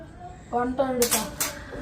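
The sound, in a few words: washing dishes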